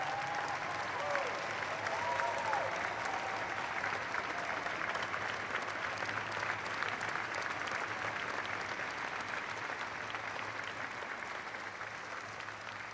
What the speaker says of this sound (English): So would you join me in giving a vigorous round of applause to Commander Bob Behnken and Commander Doug